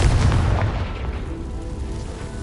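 Confringo fire spell explosion in the Hogwarts Legacy video game, a single heavy booming blast at the start whose low rumble slowly fades away over a couple of seconds.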